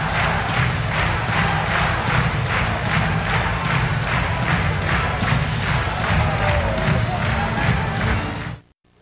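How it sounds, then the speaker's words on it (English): Sustained crowd applause and cheering at a 1993 UWFi shoot wrestling pay-per-view as the world champion keeps his belt, a loud, steady roar of clapping with rhythmic pulses that holds throughout, then cuts off abruptly at the end. "And they give him a big round of applause as the world champion maintains his belt and his championship and takes a big bow"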